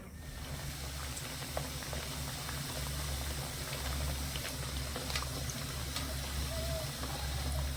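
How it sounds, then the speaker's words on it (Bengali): Chickpea dal bora fritters fry in oil over medium heat, a low, steady bubbling with faint crackles that carries on evenly throughout. "এবারে এই বড়াগুলো আমি মিডিয়াম আছে একটু ভেজে নেব"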